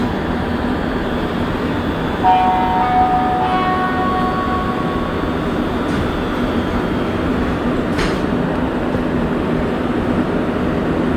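A Montreal Blue Line metro train running through the tunnel between stations, with a steady loud rumble and rail roar throughout, faint squealing tones from the wheels and a brief sharp hiss partway through.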